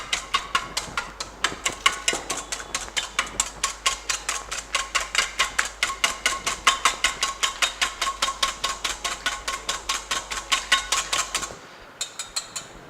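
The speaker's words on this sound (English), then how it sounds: "First we have to take required amount of egg white, which is 1 egg white, and whisk it completely." One egg white is whisked by hand in a bowl for royal icing, a fast steady run of sharp clicking taps against the bowl, close and alone, stopping near the end.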